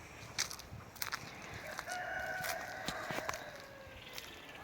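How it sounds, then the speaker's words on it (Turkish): Chickens in a garden, a faint rooster crow drawn out over a couple of seconds with scattered clucks and light taps around it, quiet and somewhat distant. "Şöyle tavuklar her şeyi yiyorlar."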